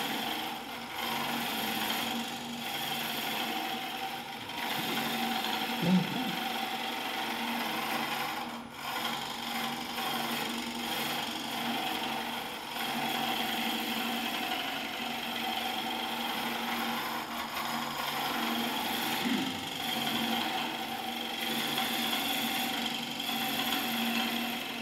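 A wood lathe cutter shears into spinning wood in a steady, continuous rasping scrape with a faint motor hum beneath, close and even throughout, with no talk.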